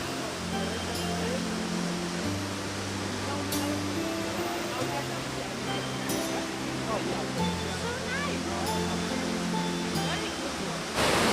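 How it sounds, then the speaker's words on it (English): Waterfall flowing in Kereita Forest, Kenya, heard as a constant broadband rush that is fairly distant and steady, under a layer of low tonal hum, with no speech. "I can just hear the waterfall flowing"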